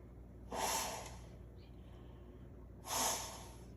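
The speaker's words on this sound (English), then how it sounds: "And I've got to go blow my nose." A person blows their nose nearby in two short, forceful nasal blasts about two seconds apart, with quiet room tone between them.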